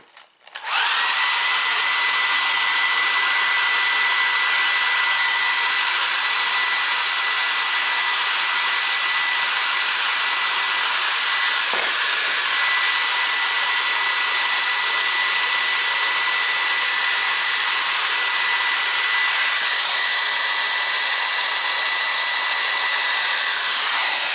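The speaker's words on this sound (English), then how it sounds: "I'm going to hit the hairdryer for about 20 seconds." A hair dryer switches on and blows steadily at close range on a carving, a loud constant whir that continues without a break.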